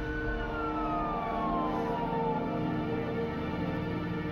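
An ambulance siren sounds steadily and fairly loud throughout, with a wailing tone that slowly drops in pitch as the vehicle moves away after a road accident.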